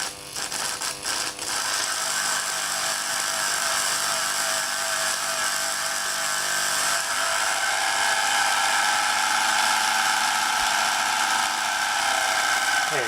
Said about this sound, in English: Not much current, so it's going to take a while to spin up again.